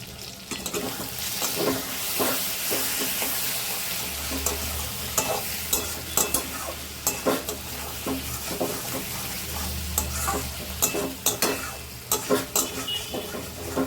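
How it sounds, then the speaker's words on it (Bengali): Chicken with spices is sautéed in a pan, with a soft background sizzle and frequent rhythmic scrapes and clacks of a spatula stirring, fairly close and moderately quiet. "এটা ভালো করে একটু কষিয়ে নিই"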